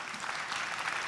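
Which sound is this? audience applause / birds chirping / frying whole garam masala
audience applause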